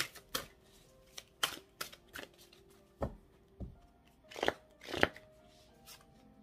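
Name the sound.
shuffling tarot cards for a reading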